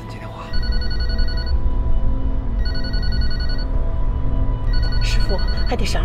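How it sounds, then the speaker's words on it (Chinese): A telephone rings in a repeated electronic pattern, with three bursts of tones over a steady low hum like a moving vehicle's interior, and some background noise near the end. "接电话。"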